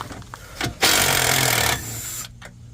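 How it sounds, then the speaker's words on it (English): A power tool backs bolts out during a fuel system restoration on a 1995 Suburban, with a loud, close mechanical burst of roughly one second, framed by faint clanks and shop noise. "The bolts are coming out."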